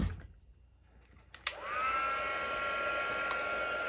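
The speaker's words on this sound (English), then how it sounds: "I'm going to grab my heat tool here" Handheld crafting heat tool switched on with a click, then a steady, close whooshing roar of hot air that holds evenly to the end.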